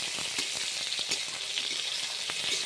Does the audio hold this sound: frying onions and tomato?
yes